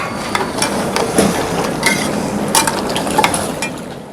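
Haleem cooking in a pot, lentils, rice and wheat simmering with steady frying-like sizzle and bubbling, scattered stirring clinks and scrapes close by, no talk.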